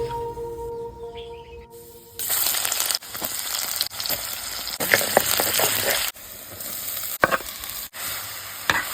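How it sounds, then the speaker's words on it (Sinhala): Sambol frying in a little oil in a pan for a traditional Sri Lankan kiri ala leaf mallum, a loud steady sizzle broken by several short scraping stirs, with no voices. "දැන් පුතේ මේකට සම්බෝලේ දාලා තෙල් ඩිංගක් දාලා මලවලා ගන්නවා."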